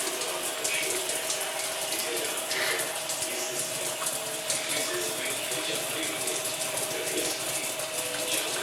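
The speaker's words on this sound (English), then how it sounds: "Water flow is very low." A reverse osmosis system lets out a low, weak water flow, a steady thin trickle with faint mechanical ticking layered over a constant hum.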